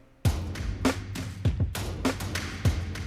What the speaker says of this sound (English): we have a 100 beats per minute drum track that sounds like this.